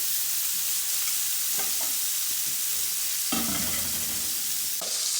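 Sea scallops searing in a hot pan give a steady, close sizzle with a few soft clinks and shuffles partway through, and no voices over it.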